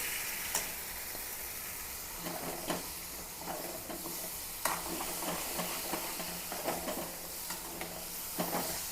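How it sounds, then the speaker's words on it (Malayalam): Cut pieces of a large mango sizzle steadily in a hot frying pan with a loud, continuous hiss. Occasional scrapes and clicks of stirring sound close by, and there is no talk. "ഇതിലേക്ക് കട്ട് ചെയ്ത് വെച്ചിരിക്കുന്ന മാങ്ങ ഇട്ട് കൊടുക്കട്ടെ"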